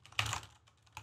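Typing on a Corsair Vengeance K70 gaming keyboard, soft non-clicky keystrokes in a short close burst, a pause, then a few more presses.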